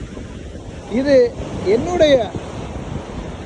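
Ocean surf at Myrtle Beach, South Carolina, washes in a continuous windy rush with wind buffeting the microphone, while someone talks over it in the middle of the clip.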